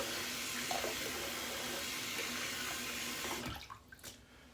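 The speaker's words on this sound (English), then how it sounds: "Sorry for the running water there." Water runs steadily from a sink tap into a basin full of sudsy water during a wet shave, a close, constant rush that cuts off abruptly near the end, leaving a few faint drips.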